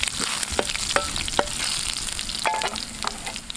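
Shallots and two dried red chillies fry in hot oil for a Kerala jackfruit puzhukku tempering, a continuous close crackling sizzle with a few sharp pops and spoon taps.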